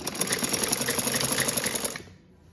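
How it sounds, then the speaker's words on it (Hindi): Electric sewing machine running a steady fast stitch along a frock suit seam, a loud rapid rattling hum lasting about two seconds and then stopping abruptly, with no one speaking. "ये यहाँ पे यूँ रखते हुए एक सिलाई लगाएंगे"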